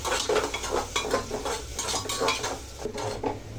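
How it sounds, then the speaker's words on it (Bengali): Onions frying in oil in a pan to brown for beef curry, a steady close sizzle with continual stirring and utensil scraping against the pan, no talk. "পেঁয়াজটা একটু আমি লাল করে নিছি"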